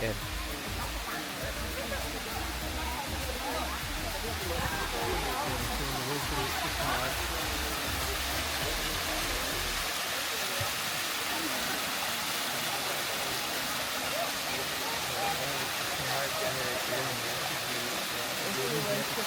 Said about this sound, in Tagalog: Ito na yung waterfalls guys.